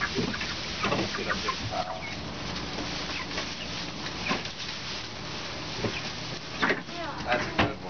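Six-week-old Jumbo Cornish Cross chickens cluck and murmur in a backyard pen while hay is spread, a continuous flock chatter under children's and adults' voices.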